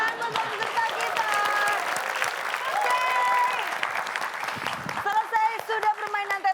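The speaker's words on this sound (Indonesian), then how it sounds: "Lagi tepuk tangan buat peserta kita." Studio audience applause for contestants on a word-puzzle game show, sustained clapping and cheering mixed with voices and a host talking over it, thinning out near the end.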